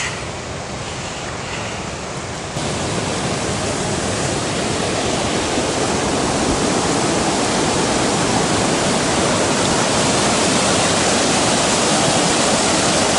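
The strong, fast-flowing South Fork of the Kern River roars as a loud, continuous broadband rush that swells slightly after a couple of seconds and then holds steady, with no voices.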